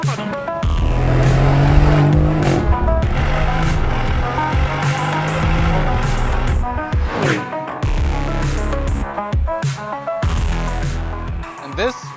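Lamborghini Urus SE driven hard in Corsa performance mode, a loud, close engine roar rising and falling through gear changes with sharp revs, mixed with a voice speaking over it.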